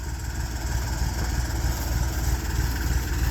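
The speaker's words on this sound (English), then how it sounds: "You can go ahead and kill the tractor once you get it back." A tractor engine idles steadily on a pastured pig farm, a continuous low rumble with a mid-range hum that holds even and moderately loud throughout, with no talk over it.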